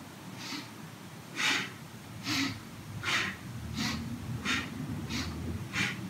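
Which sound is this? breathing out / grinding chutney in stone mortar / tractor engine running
breathing out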